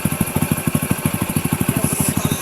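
Motorcycle engine idling steadily right after a CDI replacement that cured its misfiring, a close, even, rapid low putter with regular firing pulses and no talk over it.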